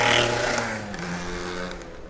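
A motorcycle engine roars loudly at first, then settles into a steady droning whir that fades slightly as it moves away.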